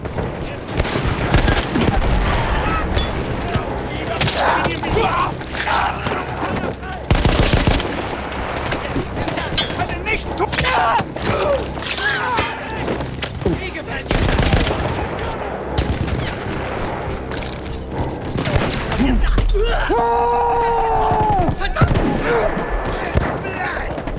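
Machine gun fire in Battlefield 1 on the Italian Alps front, with rapid sustained bursts, booms and loud battle noise throughout and voices speaking over the din.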